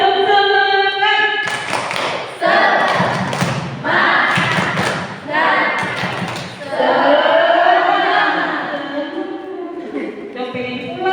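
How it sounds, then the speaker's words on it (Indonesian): Students at a university orientation perform a rhythmic spirit clap, the tepuk semangat: grouped claps and thumps in a loud patterned sequence, mixed with group chanting voices. "Tepuk semangat."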